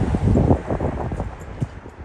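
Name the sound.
wind blowing against the microphone on a street walk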